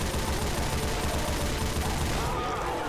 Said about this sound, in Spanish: si yo le disparo con la metraca